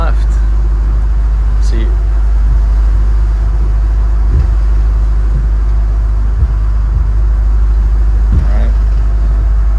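A Volvo Penta boat engine runs in gear during joystick steering, giving a deep, constant low rumble close by while someone talks briefly over it.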